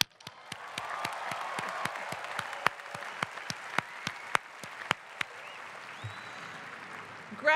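A large commencement audience at a 2017 university graduation applauds the graduates, sustained crowd clapping with distinct sharp claps standing out, steady and fairly loud throughout.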